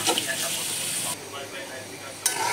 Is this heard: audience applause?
no